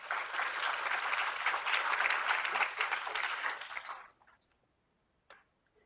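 An audience claps steadily for about four seconds to welcome a speaker at a family partnership event, dense and even, then fades out, leaving a quiet room with a single faint knock.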